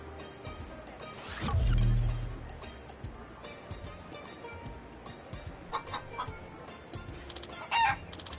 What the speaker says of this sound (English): You can hear the chickens talk?